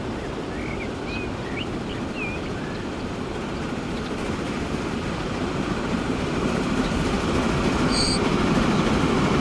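A steam-era train in Transport Fever 2 rolls into Berwick-upon-Tweed station, a steady broad rumble of wheels and carriages running throughout at even loudness, with a faint high whistle-like tone near the end.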